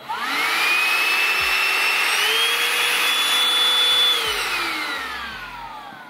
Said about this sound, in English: She's small, but she do her thing.